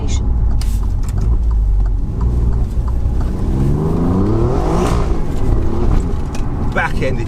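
An Alfa Romeo Quadrifoglio's engine in race mode with traction control off, driven in the rain, revving up and down loudly and continuously under someone talking.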